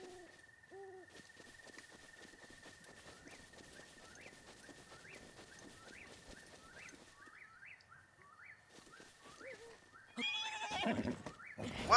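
A horse in a Zelda video game whinnies twice at the start, followed by a run of chirping, hooting game tones over soft hoofbeats and a louder rush of game noise at the end.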